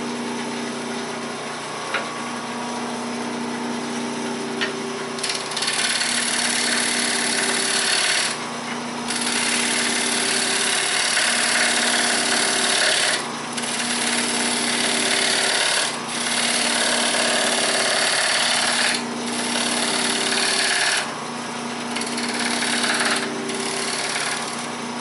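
A wood lathe spins as a tool cuts a rough-turned bowl, a steady grinding hum with a bright scraping hiss that breaks off and restarts every few seconds, loud and close with no talking.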